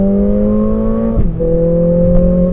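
Synthetic engine sound from a Mercedes-AMG CLA 45 with a turbocharged 2-liter four-cylinder, piped through the cabin speakers: a steady droning hum that briefly dips and shifts pitch midway, then settles into a slightly different steady tone.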